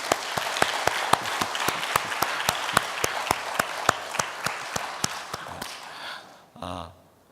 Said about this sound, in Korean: 우리 큰 박수를 올려드리겠습니다